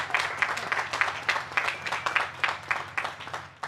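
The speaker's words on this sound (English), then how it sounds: "Yeah, that's an applause line." Applause from the audience at a UMass Dartmouth undergraduate and graduate student ceremony, a soft steady patter of many hands clapping at a distance, fairly faint throughout.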